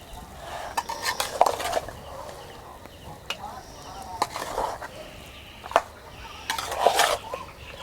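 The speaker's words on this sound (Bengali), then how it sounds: "খুন্তি দিয়ে মাখিয়ে নিচ্ছি" Spiced chicken being mixed with a spatula in a pan gives intermittent scraping and clinking of metal against cookware, with several sharper knocks spread through the passage.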